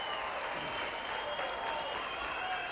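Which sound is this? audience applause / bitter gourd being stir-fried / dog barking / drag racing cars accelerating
audience applause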